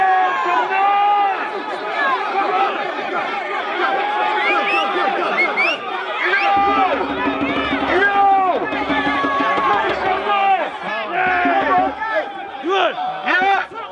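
A large outdoor crowd at a memorial gathering in Hackney roars, cheers and shouts continuously for the whole stretch, a dense wall of many voices with whoops and yells rising and falling.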